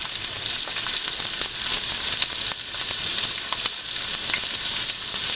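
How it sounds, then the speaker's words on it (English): Onions fry in a pot under constant stirring for ratatouille, giving a steady bright sizzle that holds close and loud, broken by faint scraping strokes of the spoon. "And you're gonna stir constantly."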